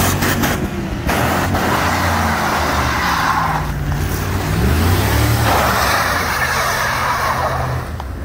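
A Dodge Durango AWD engine held at redline, a loud, sustained roar with a sweeping pitch rise and fall mid-way, close and continuous without a break.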